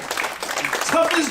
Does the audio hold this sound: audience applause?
yes